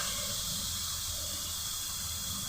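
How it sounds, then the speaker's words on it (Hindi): Masala spices cooking in a pan over low heat, a steady soft hiss and sizzle with faint bubbling, continuous and close throughout. "मेरा मसाला पक रहा है"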